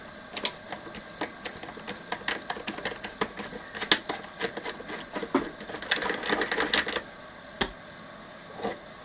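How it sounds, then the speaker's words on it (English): An 8mm socket working a nut off a Tom Evans Mastergroove SR mkIII preamp, heard up close as rapid clicking ratchet bursts and small metallic taps. "Just going to go with the 8mm socket."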